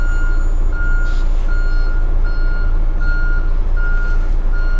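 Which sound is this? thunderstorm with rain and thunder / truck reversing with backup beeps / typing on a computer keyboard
truck reversing with backup beeps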